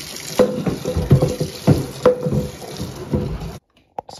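Hot water pours from a faucet into the plastic tank of a Bissell Big Green carpet cleaner, with irregular splashing and gurgling close by for several seconds before stopping abruptly, followed by a brief clunk.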